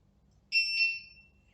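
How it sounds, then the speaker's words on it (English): Audible alarm of a Trimos height gauge: a single short electronic beep, clear and close, sounding alone over a faint low background hum. "there is an audible alarm for everything."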